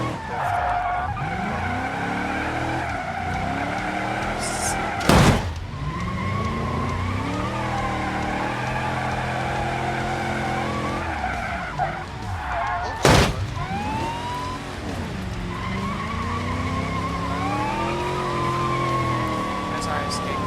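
A car in a racing video game skids repeatedly while fleeing police, tyre squeals rising and falling in long sweeps over a steady engine drone, with sirens and two sharp impact bursts.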